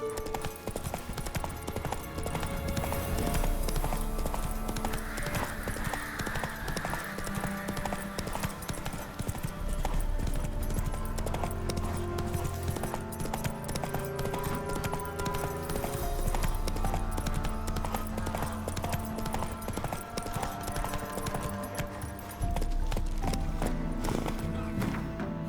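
Roach, a horse in The Witcher 3, gallops continuously for a long stretch, hooves pounding in a steady fast rhythm beneath game music and ambience, close and prominent throughout.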